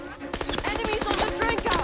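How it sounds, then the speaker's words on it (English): Rapid gunfire in the Call of Duty WWII video game, a shotgun among dense overlapping shots in a loud, continuous burst of battle noise. "I hope this shotgun works"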